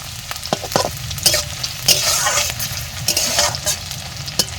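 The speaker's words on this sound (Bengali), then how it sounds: "তো পেঁয়াজটা ভাজা ভাজা হতে থাকুক" Onions frying in a pan with green chillies, sizzling steadily while a spatula stirs and scrapes in irregular clacks close by, no talking over it.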